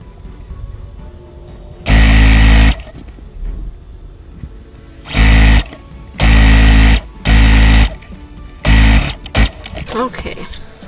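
A sewing machine stitches fabric pieces together in several loud, steady motor bursts of varying length, separated by quieter pauses with handling noise and some talking in between.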